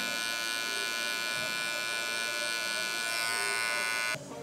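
Electric hair clippers fitted with a one guard buzz steadily during detailing of a high taper haircut, a close, continuous high-pitched electric hum that cuts off abruptly near the end, with a voice talking over it.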